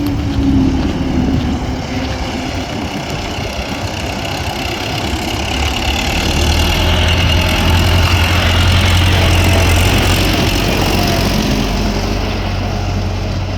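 A 2010 MTZ-82.1 diesel tractor engine idles continuously with a steady, rough low chugging that stays loud and close throughout.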